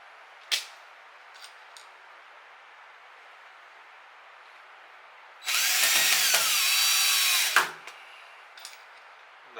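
A power drill drives short one-inch woodworking screws into a three-ply bowl blank being mounted for the lathe. One loud, close whirring burst lasts about two seconds, preceded by a few faint clicks.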